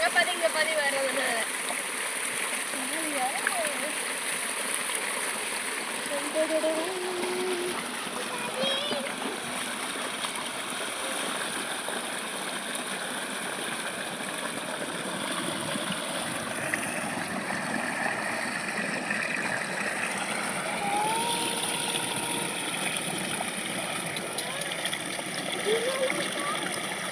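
Water runs steadily in a shallow stream, a constant broadband rush with occasional splashes, while children shout and talk nearby throughout.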